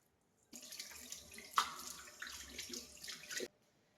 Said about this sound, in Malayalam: കുറച്ച് വെള്ളവും കൂടെ ഒഴിച്ച് നല്ലപോലെ മിക്സ് ചെയ്തെടുക്കാം.